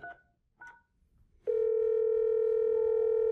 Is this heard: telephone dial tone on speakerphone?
yes